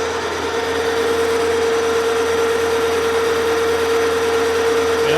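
A lathe bores a steam stoker engine valve sleeve at 546 RPM, giving a loud, steady machining drone with a sustained tonal whine throughout, close and continuous with no talk.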